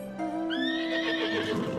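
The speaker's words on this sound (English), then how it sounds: "Look at my stupid fancy horse." A fancy six-legged, two-winged horse mount in Final Fantasy XIV lets out a single loud, drawn-out whinny lasting under two seconds, with a faint hoof clop underneath.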